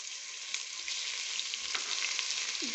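Garlic and ginger fry in oil with a dense, even hiss of sizzling, faint and steady, with a few light clicks of stirring and no talking.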